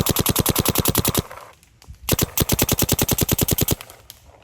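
Planet Eclipse Geo R5 paintball marker with an SFR fitted, firing in two rapid full bursts of evenly spaced sharp pops, loud and close, split by a short pause.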